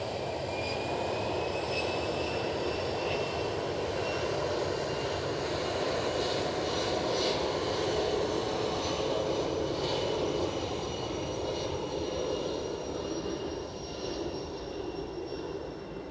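A Ryanair jet at Edinburgh airport roars steadily at a distance, a broad sustained engine rumble that holds level throughout with no voices.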